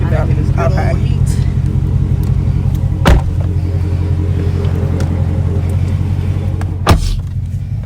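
A car engine idles steadily up close, a constant low rumble with a steady hum throughout, interrupted by two sharp knocks or clicks at about three and seven seconds.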